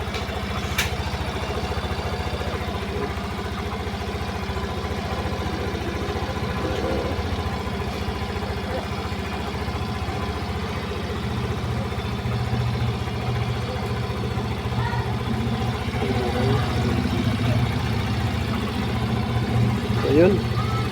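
A small motorcycle engine idles steadily after being started following a repair for rain-related starting trouble. Someone talks over the low, continuous running throughout.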